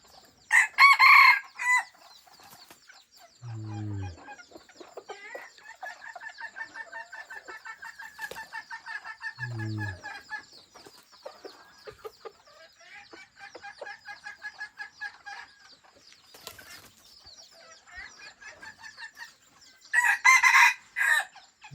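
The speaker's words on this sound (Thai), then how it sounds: "มีเสียงพอพันมันกำลังขั้นแล้วเมื่อกี้" A rooster crows twice at moderate distance, with softer clucking and rustling farmyard activity in between and louder bursts of noise at the start and end.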